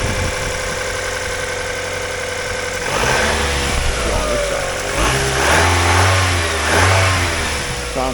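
A 2002 Mazda Miata with an automatic transmission, parked in an Ohio winter, idles steadily and is then revved several times with rising and falling engine sweeps, heard close by.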